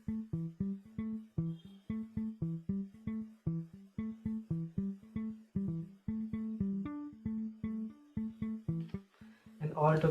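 A Liverpool bass synth patch in Logic plays short, plucky, rhythmic notes in a repeating pattern at 115 bpm for a remake of a song, ending with a brief noisy swell.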